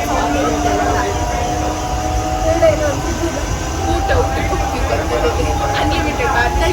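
A passing train gives a low, steady rumble with faint tonal whines and clatter, sustained at an even level throughout.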